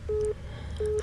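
Two short, evenly spaced beeps of a telephone busy signal sound from a handset, clear over a low background hum.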